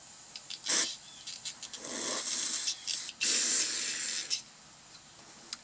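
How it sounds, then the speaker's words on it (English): Several short bursts of carb cleaner spray hissing through a two-stroke engine's fuel filter in quick succession, one sharp puff followed by longer sprays, close by with no talking. "first take some carb spray and just spray it through here"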